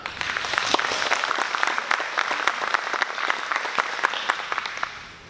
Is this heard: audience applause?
yes